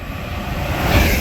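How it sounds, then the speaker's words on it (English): LNER Azuma class 801 train passing at speed through Hatfield station on the East Coast Main Line, a loud, steady roaring rush that swells slightly toward the end. "going through here we have an LNER Azuma class 801"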